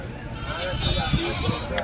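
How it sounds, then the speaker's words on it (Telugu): Goats and kids bleating at a busy Sunday livestock market at Chilpur Gutta, with sheep also on sale, the calls short and close amid a steady crowd murmur and talking voices. "మేకలు మరియు వాటి పిల్లలు అనమాట, చూసుకోవచ్చు."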